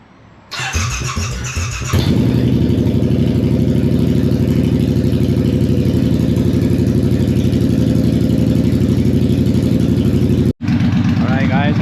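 A Triumph Bobber motorcycle fitted with a new exhaust cranks over and fires up, then settles into a loud, steady idle with a deep rumbling throb. There is a brief dip near the end, and a voice is briefly heard near the start.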